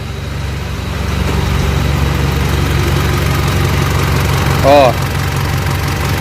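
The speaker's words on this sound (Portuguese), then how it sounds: "Agora a corrente de comando tá batendo. Ó o barulho." Mitsubishi L200 Triton 3.2 idling with a worn timing chain knocking, a steady close-up engine drone with a faint repetitive rattle, and one brief spoken word near the end.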